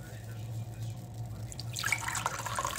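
Hot water runs from a kettle into a cup for tea, a bright splashing pour that starts partway through after a low steady hum.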